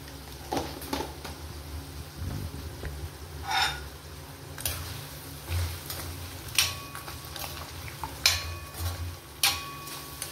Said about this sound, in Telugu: ఒకసారి కలుపుదాము.